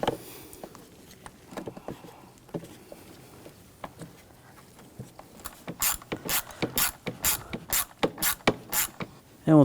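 A torque wrench tightens a bolt on the valve cover of a 2006–2010 BMW 550i 4.8L V8. Scattered small mechanical clicks give way to a crisp, evenly paced run of ratchet clicks that grows louder near the end.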